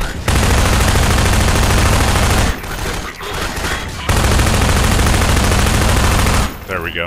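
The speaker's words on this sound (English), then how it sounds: "I would really not want to be out in the open there while that autogun is shooting" Autogun turret firing in Half-Life 2 Episode 2: loud, sustained rapid machine-gun bursts in two long volleys separated by a short gap, with a brief spoken remark near the end.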